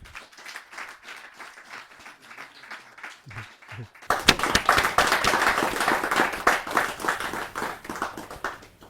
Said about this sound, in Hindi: जा जोरदार तालियां बजती रहें